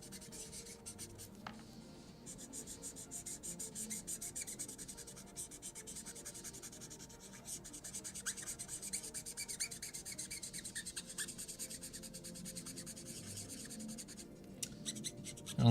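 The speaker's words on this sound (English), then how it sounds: "Damn this dry marker." A dry marker scratches steadily across paper while someone doodles a self-portrait, giving a continuous soft rubbing scratch with small strokes throughout and no talk.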